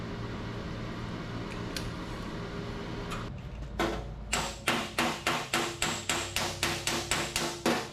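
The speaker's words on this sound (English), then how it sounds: "A lot of hammering." Hammer pounding out a low spot in car body work, a fast steady series of sharp metallic blows ringing close after a stretch of low background noise.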